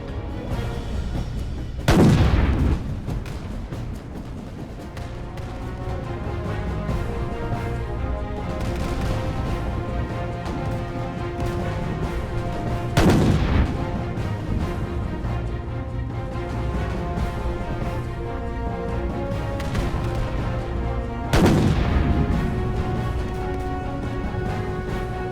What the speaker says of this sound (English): Three nice torpedo hits too from that last batch.